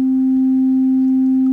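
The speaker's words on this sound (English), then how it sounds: "Let's load in a sine wave. Here we got a sine wave going." A steady, pure sine-wave tone from a Korg MS-20 synthesizer holds at C3 without wavering, loud and alone from start to finish.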